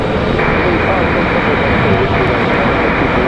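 An airplane taking off at Raleigh-Durham International Airport fills the air with a loud, unbroken jet roar that holds steady and close throughout.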